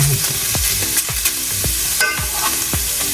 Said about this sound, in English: So you take your day old rice, and you add it.